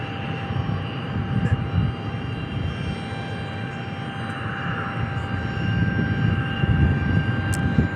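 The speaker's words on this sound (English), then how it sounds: "There's our F-16s." Air National Guard F-16 fighter jets at Tucson International Airport: a sustained, fairly loud jet engine roar with a steady high whine on top, swelling slightly toward the end, with no one speaking.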